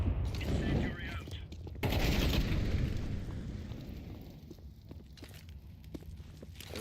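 Incendiary grenade and gunfire in a shooter video game: a loud burst of blasts and shots at the start, then a second heavy eruption around two seconds that fades into crackling, scattered shots and footsteps.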